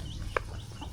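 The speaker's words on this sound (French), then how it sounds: "Mais pourquoi il y a des coqs qui se baladent sur la rue?" A rooster wandering a street in Phuket gives a single short cluck at mid distance over steady outdoor street ambience.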